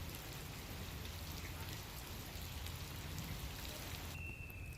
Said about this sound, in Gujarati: વલસાડના ઉમરગામમાં ધોધમાર વરસાદ